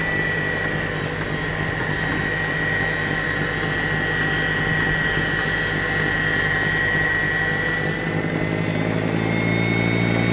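An Ego 56V battery-powered snowblower runs continuously at medium speed, a loud steady whirring drone with a constant tonal whine and no talking.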